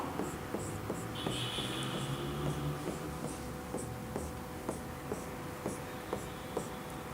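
A pen scratches across paper while a chemical displayed formula is drawn, making soft rhythmic strokes and taps at a brisk, fairly regular pace, close and quiet with faint room hum underneath.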